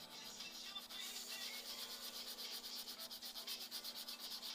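Close, steady hand sanding of Bondo body filler on a car body, rapid back-and-forth rubbing strokes growing more rhythmic, with a faint hum beneath.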